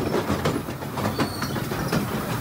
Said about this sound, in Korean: 오랜 세월의 흔적이 고스란히 담긴 이 미니 기차